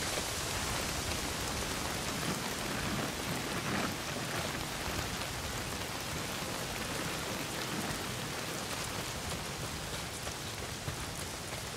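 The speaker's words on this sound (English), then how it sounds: "Well, not if it's pissing down rain." Heavy rain in the video game Days Gone pours down as a steady, dense hiss that stays loud and even throughout, with no voices over it.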